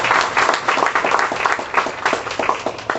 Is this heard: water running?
no